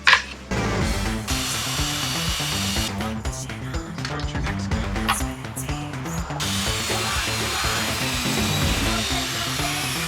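A power tool cuts out pieces of a 5.5-inch wooden board, with a high, whining buzz that runs nearly continuously and stays loud and close for the whole stretch, and no talking over it.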